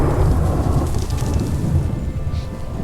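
Heavy rain pours down with deep rolling thunder in the survival video game Jaws of Extinction, a loud, dense, steady roar that eases slightly toward the end.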